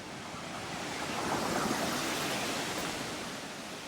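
Water pouring steadily over a dam, a broad even rushing roar heard from nearby, fairly soft and unbroken, with no voices.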